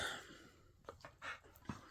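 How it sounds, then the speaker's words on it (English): An excited dog pants in quick, breathy bursts indoors, the panting close and uneven with short pauses and a sharper puff near the end. "I don't know why she's just all excited all at once."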